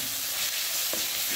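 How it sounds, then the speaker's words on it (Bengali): Spices sizzle in hot oil in a fish curry pan after salt and turmeric go in, giving a brief, steady frying hiss with a light scrape near the end. "মশলাটা ভাজা হয়ে গেছে, দিয়ে দিলাম নুন আর দিয়ে দিলাম হলুদ"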